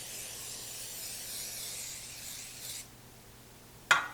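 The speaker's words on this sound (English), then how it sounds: "We're going to spray a 9-inch kind of a cake pan here." Grease spray misted onto a 9-inch cake pan, a steady close hiss lasting under three seconds, then quiet and a single sharp clack.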